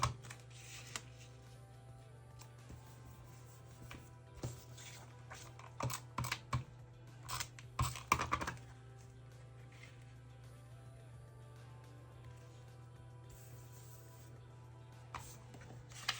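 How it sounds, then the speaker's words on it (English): Tape is pulled and pressed down onto paper on a scrapbook page, giving a string of faint, quiet crinkles and clicks with bursts clustered in the middle. "Tape the rest of this down"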